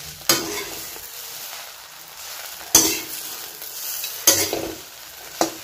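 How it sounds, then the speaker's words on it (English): A spoon stirs and scrapes bread upma in a frying pan, with several distinct scraping strokes over a soft background sizzle, close and moderately loud with no talking. "So I'm gonna slightly mix it up, so I don't want to overdo it."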